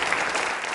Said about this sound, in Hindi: नूरी जी के लिए तालियां जोरों से बजाइए, जोरदार तरीके से।